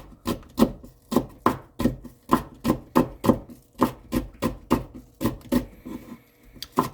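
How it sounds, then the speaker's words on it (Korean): A knife chops green onions on a cutting board, a brisk run of about twenty crisp, regular knocks close by with no talking. "가른 다음에 이제 써시면 조금 더 수월하게 다진 파가 될 수 있습니다"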